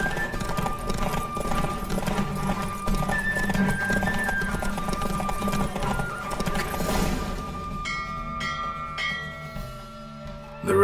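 Roach the horse galloping in a race in The Witcher 3 video game, rapid rhythmic hoofbeats close up, with a brief whinny and game ambience, fading near the end.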